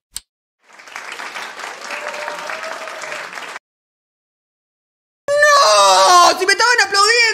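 A video game crowd claps and cheers steadily for a few seconds, then falls silent before loud shouting and exclaiming voices burst in.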